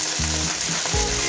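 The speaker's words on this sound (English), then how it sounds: "And you hear the sizzling, right?" Brussels sprouts fry in butter in a pan, hissing and crackling loudly and continuously up close, with a couple of low scraping stirs beneath the sizzle.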